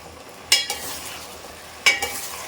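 Potatoes, sambar onions and vegetables for a prawn curry with drumstick and brinjal are sautéed in a pan: a soft continuous sizzle broken by two distinct spatula scrapes against the metal, roughly a second and a half apart.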